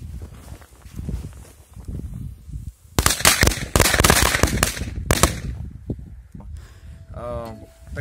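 A bundle of about twenty firecrackers bound into an 80-gram charge goes off on New Year's Eve, a rapid cluster of sharp loud bangs after quieter rustling, followed by a brief voice.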